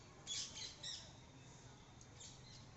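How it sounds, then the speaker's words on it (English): Parrots squawk faintly in a few short, sharp calls early on, then softer chirps further off against a quiet background hiss. "Thank you, little parrots."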